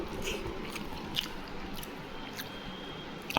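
Someone eats rui fish curry with fish-oil chorchori of potato, pointed gourd and long beans, with soft close chewing and a few wet bites over a quiet room.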